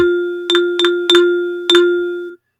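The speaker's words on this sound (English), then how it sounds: "there is a play button. It's going to play a rhythm." Playback tones from a rhythm-training website sound as four clean bell-like dings over a steady sustained tone, played in an uneven rhythm, with two close together, then a gap, then a fourth. Nobody speaks.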